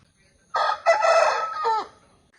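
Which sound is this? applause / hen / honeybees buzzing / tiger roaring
hen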